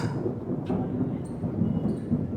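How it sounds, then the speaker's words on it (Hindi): Low thunder rumbling from a cloudy sky outside a library as rain threatens, a continuous dull roll heard at a distance with no voices. "बादल भी गरज रहे हैं, बारिश होने की पूरी संभावनाएं हैं।"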